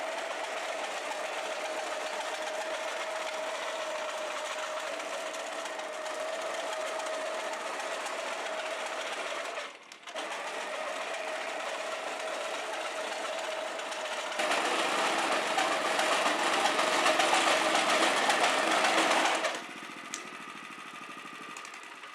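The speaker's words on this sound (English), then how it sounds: "we're going to take the hollow tine aerator over and we're just going to remove some cores" A hollow tine lawn aerator runs across a lawn pulling cores during a spring renovation, a steady mechanical engine drone with a constant hum, briefly dipping midway, then a harsher rattling stretch before settling again.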